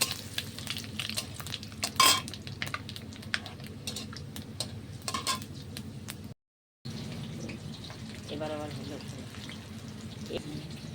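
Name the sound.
whole spices and dry chilies sizzling in hot oil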